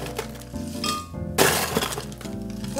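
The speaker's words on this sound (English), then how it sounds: "Throw some ice in there." Ice cubes are tossed into a cocktail glass, producing a loud clattering crash of ice striking glass, with clinks before and after the main impact and no talking.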